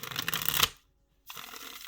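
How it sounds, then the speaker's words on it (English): Tarot cards are shuffled by hand in a quick, close riffle, followed by a brief pause and then a softer second burst of shuffling. "I'm gonna have to shuffle that"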